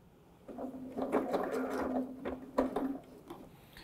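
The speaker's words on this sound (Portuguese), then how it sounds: "E inicie a costura faça aqui ó, um leve retrocesso" A sewing machine stitches a satin bonnet, starting with a short backstitch, its motor running in a steady whir with brief stops and restarts. Quiet handling noises sit beneath it.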